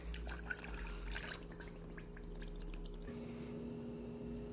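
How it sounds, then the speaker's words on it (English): Soft trickling and dripping of water into a small saucepan with sugar, quiet and close, over a low steady hum. "In a small saucepan, you want to add 1 cup of sugar with 1 cup of water."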